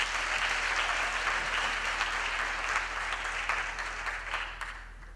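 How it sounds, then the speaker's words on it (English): Graduation ceremony audience applauding a university choir in a large hall: broad, sustained clapping from many hands that slowly tapers off toward the end, with a low steady hum underneath. "I think the choir deserves yet another round of applause."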